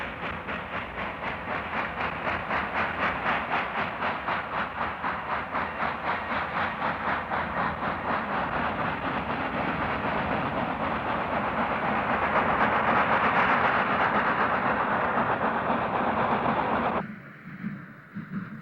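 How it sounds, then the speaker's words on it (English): Steam locomotive 2880 hauls a freight train across the high desert of eastern Oregon, a loud, rhythmic chuffing with steady rolling rumble that swells midway, then cuts off abruptly near the end. "2880 number 2013 is running south towards Klamath Falls as she drags her freight across the"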